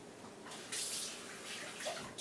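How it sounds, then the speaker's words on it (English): Tap water running while something is rinsed out in a sink, a steady close splashing hiss with a few brief surges, no talk. "I'm going to rinse this out"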